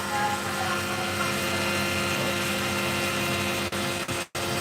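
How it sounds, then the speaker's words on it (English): Opal being cut along the sand line with a cutting tool, a continuous high, buzzing whine with a grinding edge, close and steady, briefly cutting out near the end. "Going to cut along the sand line."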